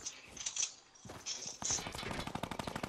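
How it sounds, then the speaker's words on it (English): Bursts of gunfire aimed at the player in a Fortnite battle royale match crackle in rapid strings, a short volley, a brief pause, then a denser sustained barrage, fairly close and loud. "I'm getting shot at?"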